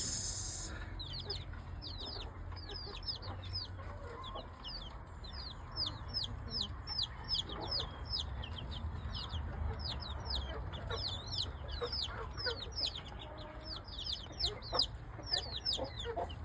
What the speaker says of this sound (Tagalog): 2 weeks old chicks.